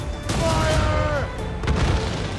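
Ship's cannon fire on a captain's command: booming broadband blasts near the start and again around the middle, loud and close, mixed with shouting voices and a brief whistling tone.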